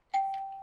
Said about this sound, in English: release the solenoid so the chime goes down and hits the hammer